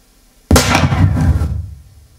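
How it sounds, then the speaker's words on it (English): A high-level gunshot for acoustic measurement sounds as a single sharp, loud bang that cuts in suddenly, then a long booming reverberant decay over roughly a second and a half, with no voices. "Measurement two, high level gunshot."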